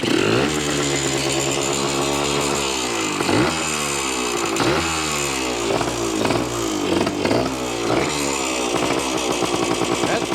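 A 1973 ATMX motorcycle is ridden up a street while its clutch is tested, the engine loud and close, revving hard and rising through repeated upshifts with a raspy, buzzing tone throughout.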